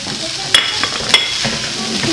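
Chinese vermicelli being stirred into a pot of harira soup, a Souss-style rice harira, with soft scraping and a few sharp clinks of the spoon against the pot over a steady low hiss.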